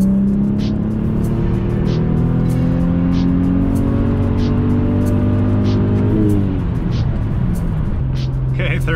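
Audi B5 S4 pulling hard in third gear, a loud rising engine and turbo whine that climbs steadily, breaks briefly at a shift, then settles lower, heard from inside the car with faint ticking noises on top.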